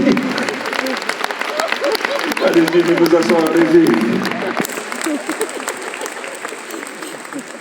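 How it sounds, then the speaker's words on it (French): Loud, full applause fills a large concert arena during a Messmer hypnosis show at the Zénith de Rouen, as someone speaks French over the clapping, which thins toward the end. "Et on peut les applaudir, mesdames, messieurs, de trouver nos participants de la première partie."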